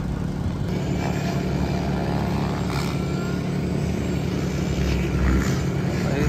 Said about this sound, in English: He's about to throw down with his big heli.